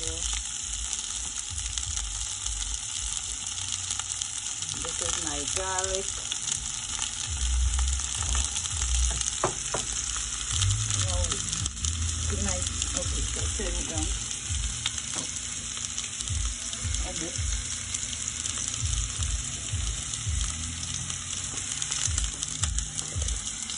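Onion fries with hot pepper in a pot for Caribbean curry potato and channa, a steady loud sizzle throughout with occasional stirring scrapes and clatter, close by.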